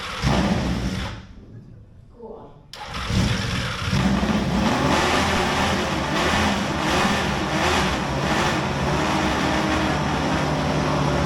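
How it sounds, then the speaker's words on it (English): Allen Millyard's custom Nemesis motorcycle engine catches after a brief quiet and settles into a loud, rough, steady roar with throttle blips, close by and alone. "With Allen Millyard starting up the Nemesis."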